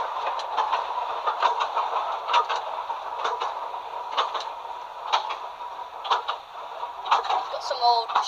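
An old W-class tram, of a type dating back to 1925, rolls along its rails with steady rhythmic clicking and rumbling, fairly close, with some talk over it.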